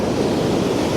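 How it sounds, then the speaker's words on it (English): Sea surf rolling onto the shore at Portgordon on the North East Scotland coast, a loud, steady wash of breaking waves with wind buffeting the microphone. "Those waves have got some undertow."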